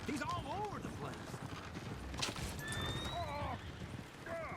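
Horses in Red Dead Redemption 2 neighing and whinnying over clip-clopping hooves, close and busy, with several whinnies rising above a steady patter of hoofbeats and game background noise.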